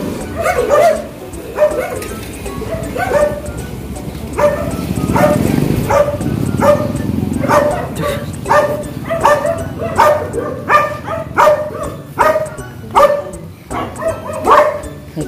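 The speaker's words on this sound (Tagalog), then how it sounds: "Galit na galit yung mga aso." Several dogs bark repeatedly and aggressively at close range, sharp yips and bow-wows in irregular bursts, with some growly noise in between.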